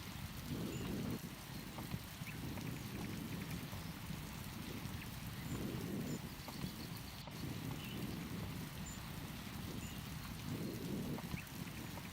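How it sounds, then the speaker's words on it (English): First rains of the season fall on a pond in Etosha, a steady, soft hiss of rain with a low rumbling undertone and faint wind, continuous and fairly distant. "The first rains of 2025 spread water across the pond, creating a reflective surface like a mirror."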